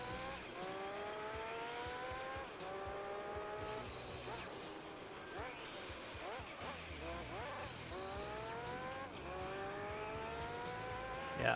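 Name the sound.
race car driving into the pit lane in video game Gran Turismo 3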